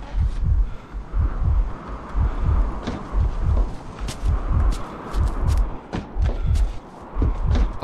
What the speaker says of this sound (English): Although I still hear the heartbeat